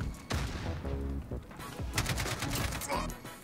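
An AK-47 firing on full auto in Modern Warfare, loud rapid bursts of shots up close with brief gaps between strings of fire.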